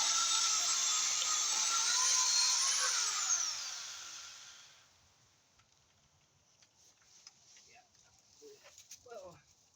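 A pole chainsaw on an extension pole cuts maple tree branches with a loud, high whine that rises and then dies away, leaving faint clicks and rustles.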